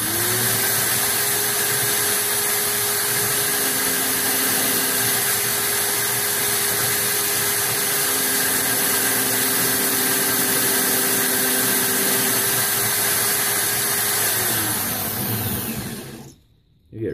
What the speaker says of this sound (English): And now we polish on the inside there.